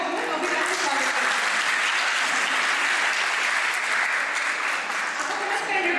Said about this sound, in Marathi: तर सगळ्यांनी एक वेळ जोरदार टाळ्या वाजवून अभिराजचं स्वागत केलं.